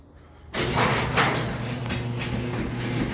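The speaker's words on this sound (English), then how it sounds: "close my garage door real quick" A garage door closes with a sudden onset and then a steady, fairly loud rolling rumble and rattle, close by and with no talking.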